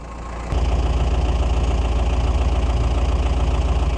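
Mahindra Roxor 2.5-liter diesel engine settles into a steady, close idle after a sudden start, with a rhythmic low throb and slight knocking pulse running evenly throughout.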